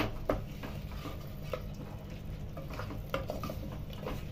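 A spoon scrapes and stirs mutton pyaaz curry in a pan over a continuous soft sizzle, with a few clear knocks against the metal, close by and with no speech.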